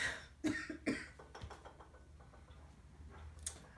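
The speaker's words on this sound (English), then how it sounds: "I'm sorry, I do have to cough" Two sharp coughs close together, followed by a few quieter throat sounds and soft clicks nearby.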